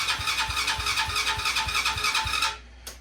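A Chinese ATV engine cranks with a fast, regular chugging rhythm of starter pulses, close and fairly loud, for about two and a half seconds, then stops abruptly, leaving a quiet pause with one small knock.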